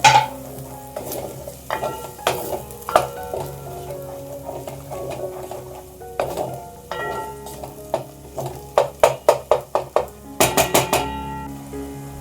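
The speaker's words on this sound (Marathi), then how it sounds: "आता हे ओलं वाटण छान तेलामध्ये परतून घ्यायचं मसाल्याला तेल सुटेपर्यंत मसाला खमंग भाजून घ्यायचा" Wet ground masala paste frying in oil for Konkan-style prawn curry, with a spoon repeatedly scraping and knocking against the pan over a soft sizzle, the clinks coming in irregular bursts and quickening near the end.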